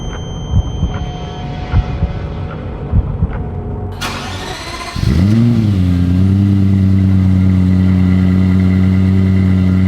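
A Lexus LFA engine bursts into life after a few seconds of quiet background noise, swelling briefly and then holding a loud, steady, close-up drone with no voices.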